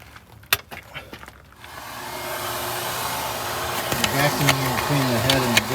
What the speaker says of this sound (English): Vacuuming between the head and the blower because there's a ton of crap down in there.